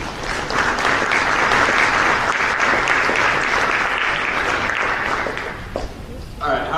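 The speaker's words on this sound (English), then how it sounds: "So let's give him a round of applause" Loud, sustained applause from a summit audience greeting a keynote speaker at a sport management conference, a dense wash of clapping that tapers near the end, with a few voices and cheers mixed in.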